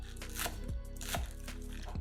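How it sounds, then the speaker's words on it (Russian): A bunch of green onions chopped finely with a knife gives crisp, rhythmic thuds on a cutting board, about three firm strokes close up with soft crunching in between, quiet overall. "Пучок зеленого лука мелко нарезаем ножом."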